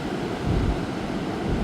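Ocean waves heard as a continuous low roar of surf, swelling slightly midway, with some wind noise on the microphone and no speech.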